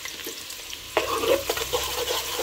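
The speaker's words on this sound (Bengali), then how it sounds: "তেল গরম হয়ে গেছে, এখন আমি দিয়ে দিব পেঁয়াজ কুচি" Chopped onions dropped into hot oil for chicken biryani, a quiet background that bursts into loud crackling sizzle, then keeps frying with scraping stirs and no voices.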